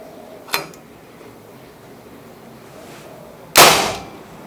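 A sharp, close shot from an AFC Bandit BJR GS 88 pump-action PCP air rifle cracks out with a brief ringing tail, preceded by a smaller click a few seconds earlier.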